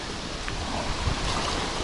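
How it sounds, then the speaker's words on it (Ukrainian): Steady, strong wind roars with broad rushing noise, constant and close, with slight swells in loudness. "дує сильний вітер"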